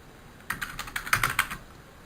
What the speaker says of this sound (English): Keyboard our question text here